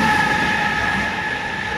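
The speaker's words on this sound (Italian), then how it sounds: "treno in transito sul binario 1 va piano perché è appena partito il TSR" A Captrain freight train rolls slowly past on track 1 of a station, a close steady rumble with a high whining tone and faint wheel noise, no voices.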